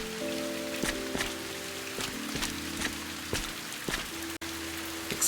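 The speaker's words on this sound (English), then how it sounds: "Some nice rain." Steady rain in the video game Viewfinder, a soft continuous patter of drops on surfaces with occasional sharper drip taps over a faint sustained tonal background, with no voices.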